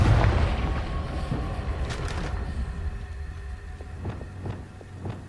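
Blasting-spell explosions from the video game Hogwarts Legacy: a deep rumbling boom opens, followed by several sharper cracking blasts and fading low rumble, moderately loud with no talking.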